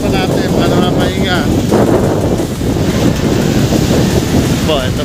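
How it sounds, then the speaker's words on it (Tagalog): Strong wind roars steadily across the microphone beside a coastal lighthouse, a loud, unbroken rush with faint voices partly buried under it. "Lagas po ang hangin dito."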